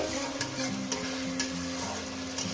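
Masala spices sautéed in a pan with fried onion for mutton curry: a continuous sizzle with a low hum beneath and a few light scraping strokes of a spoon, close and fairly quiet.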